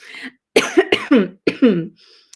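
A short run of close, harsh coughs, about five in a row with brief gaps, followed by faint background noise.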